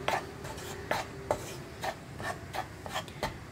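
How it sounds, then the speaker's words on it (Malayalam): Wheat flour being stirred while it roasts in a pan, heard as repeated scraping and rubbing strokes at an even, brisk rhythm, about eight in a few seconds, close and fairly quiet, with no voices. "അപ്പോൾ ഇതും കൈയെടുക്കാതെ ഇളക്കി കൊടുത്തുകൊണ്ടിരിക്കണം."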